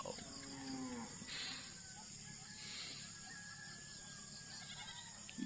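A farm carabao lows in low, drawn-out calls under steady rural background noise, with no clear speech.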